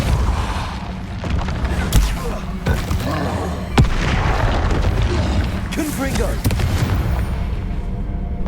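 Bombarda spell explosions in the video game Hogwarts Legacy: a few sharp, loud booms stand out over busy, continuous game effects and ambience.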